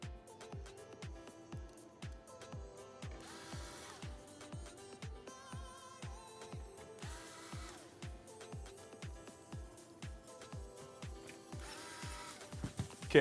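A small screwdriver tightens screws while a gaming PC is assembled in a Lian Li O11 Vision Compact case, giving a steady run of faint, evenly spaced ratcheting clicks with occasional brief whirs.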